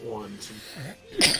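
A single loud, close sneeze bursts out near the end, right after a voice counts aloud during a tabletop wargame session.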